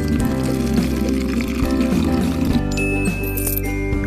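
Warm water is poured into a baby bottle while making formula in a children's baby-care video game, a continuous liquid pour with light tinkling over steady game music.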